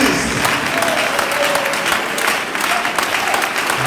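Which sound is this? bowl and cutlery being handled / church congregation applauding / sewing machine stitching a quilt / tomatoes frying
church congregation applauding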